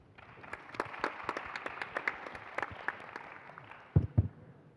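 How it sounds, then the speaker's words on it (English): Scattered audience applause at a healthcare forum welcomes the moderator, with distinct individual claps at moderate, fairly faint level before a couple of louder thumps near the end. "please welcome them with a big round of applause"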